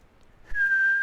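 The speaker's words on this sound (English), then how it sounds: "I whistled a lot." A person whistles a single sustained, steady note that starts abruptly after a moment of near silence and then holds clearly to the end.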